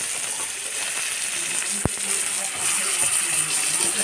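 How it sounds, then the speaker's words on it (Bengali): Chopped onions drop into a pan of oil with a little butter and fry with a steady, close hiss, after a brief clink near the start. "দিয়ে আমি এখানে কুচনো পেঁয়াজগুলো প্রথমে দিয়ে দিলাম।"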